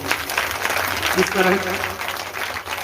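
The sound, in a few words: audience clapping loudly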